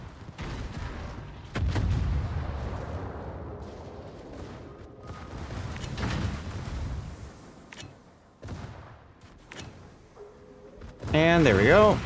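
Warship guns firing in a naval battle video game, heavy booming salvos at intervals with rumbling between them, and a voice talking over parts.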